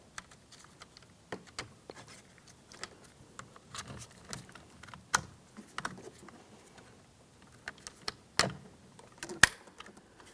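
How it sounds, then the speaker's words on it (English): Electrical connectors on a GMC Sierra 2500 HD switch panel being pressed into place, giving a series of sharp, scattered clicks and small plastic taps over about ten seconds, close up, with no talking. "press them in, and listen for a click."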